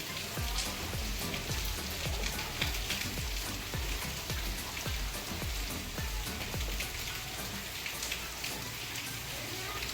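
Heavy rain pours down steadily while a car is being washed with shampoo outdoors, a dense, continuous hiss of drops pattering on surfaces with no pause.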